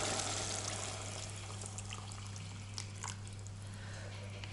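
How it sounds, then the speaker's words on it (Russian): Water is poured into a soup pot of millet and mushroom kulesh on a kitchen stove, a steady faint rushing pour over a constant low electrical hum. "Я наливаю воду."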